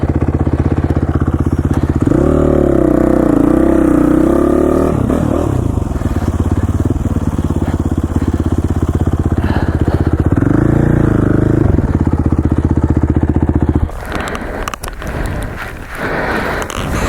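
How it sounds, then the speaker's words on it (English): A dirt motorcycle on a moto race course in the Idaho hills, its engine droning loudly throughout with rising and falling revs as the rider accelerates, plus clattering and thumps over rough ground. "Been testing my bike out a little bit."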